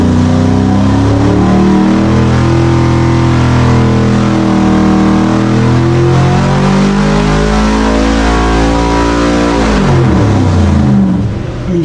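A 632-cubic-inch big-block engine runs on a Stuska dyno, roaring very loud as it climbs steadily through a long sweep of rising revs, then drops off sharply near the end.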